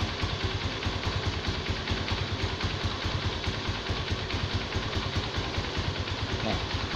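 A motorcycle engine idles during a charging system check, a steady close rhythmic putter with mechanical clatter running evenly and fairly loud throughout.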